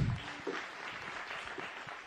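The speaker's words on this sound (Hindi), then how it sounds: "अभी सच्चाई के लिए तालियां बजाइए।" Audience applause at a Bait Bazi poetry contest quarter final in Aurangabad, India: a brief, fairly faint patter of clapping from a crowd, with no voices over it.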